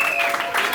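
Applause at a civil wedding ceremony in Gabon, a short steady burst of clapping filling a hall, with a thin tone running underneath.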